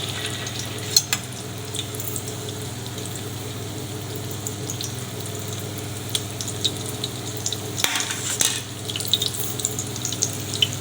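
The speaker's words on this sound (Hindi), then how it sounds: "धीमी दरमियानी सी आंच है, हल्का हल्का इसको हम गोल्डन फ्राई करेंगे।" Shami kababs shallow-fry on low to medium heat in a soft, steady sizzle, with a few light clinks and scrapes from a utensil.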